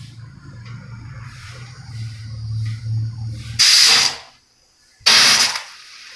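A stovetop pressure cooker making sakkarai pongal lets out two loud, sharp bursts of hissing steam from its whistle, separated by a short silence, over a low, steady bubbling rumble.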